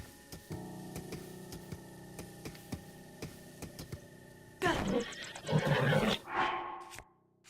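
Ganon's horse in the video game Breath of the Wild gives a loud, close neigh and snorting whinny after a stretch of ticking game ambience and soft hoof clops.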